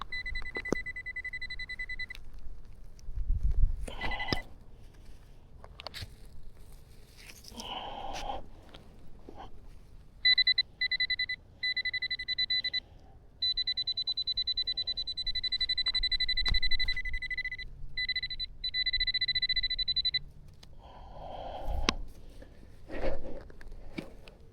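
A metal detector sounds over buried metal while someone digs a hole outdoors: short beeps and scraping early on, then a steady, bright warbling tone rings for about ten seconds before breaking off into softer rustling and handling noises.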